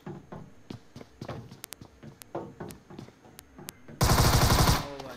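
Gunfight in the video game Deadline: scattered single gunshots and short bursts crack at uneven intervals, then a loud, dense burst of automatic fire near the end.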